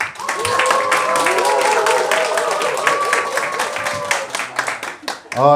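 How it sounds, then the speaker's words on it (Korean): A crowd at a book-discussion forum applauds with dense, steady clapping, mixed with voices and tonal sounds, before it breaks off abruptly at the end. "이 박수가 상당히 부담스럽습니다"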